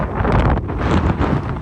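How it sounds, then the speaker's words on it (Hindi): Strong wind buffets the microphone at Fire Mountain in Azerbaijan, a loud continuous roar and rumble with gusty surges and no talking. "बहुत हवा चल रही थी उस दिन,"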